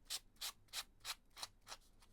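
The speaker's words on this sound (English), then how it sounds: "see what I'm doing here with the sandpaper. This is like an emery board for nails." Sandpaper used like a nail emery board rubs by hand over paper journal edges in six quick, even strokes, each a soft close scratch with a brief pause between, fairly quiet.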